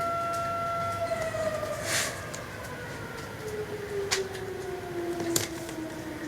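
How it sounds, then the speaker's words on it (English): A town's daily noon civil-defense siren wails from a distance, its long tone sliding slowly downward beneath faint ambient noise and a few brief clicks nearby. "that's the noon siren."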